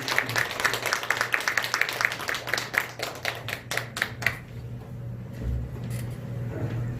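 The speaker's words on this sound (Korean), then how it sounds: "격려의 박수 드립니다." A church congregation claps in encouragement during a Sunday service, with a few seconds of steady, crowded applause in a large room that quickly dies away to room noise.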